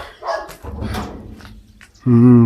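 A dog on a hillside village road in the Pahadi region barks once loudly and close near the end, after a stretch of people talking and background murmur.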